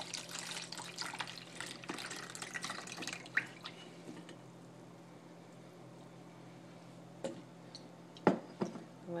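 A homemade onion cough syrup mixture is strained through into a jar, giving soft trickling and dripping with scattered small ticks and clinks, busier at first, then quieter drips and a few sharp knocks.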